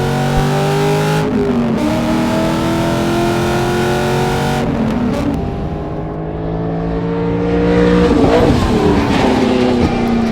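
A homebuilt race car's engine holds wide open throttle on a track straight, a loud continuous drone with rising revs broken by two quick gear shifts and a final lift off the throttle, no talking.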